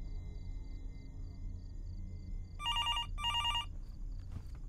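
A motel room telephone rings in two close electronic bursts partway through, clear over a low room hum with faint background tones, no talking.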